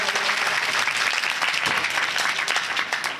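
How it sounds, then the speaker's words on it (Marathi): Audience at a kirtan gathering in a Maharashtra village applauding to welcome a dignitary, a dense, continuous roar of clapping that stays loud and even throughout, with little speech. "सर्व उपस्थितांनी साहेबांचं टाळ्या वाजवून स्वागत करावं."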